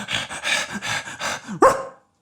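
A small bichon-type dog barks in a quick run of about six sharp, excited yaps, nearby and fairly loud, ending on a higher yelp before silence.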